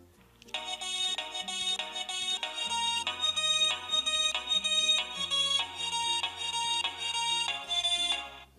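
A melody played on a phone music-making app: bright, bell-like synthesized tones in a steady repeating pattern over a low bass line, loud and continuous, with no voices.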